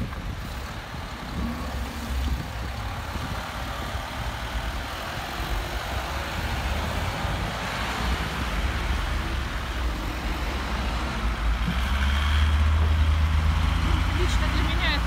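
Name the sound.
cars and trucks on a highway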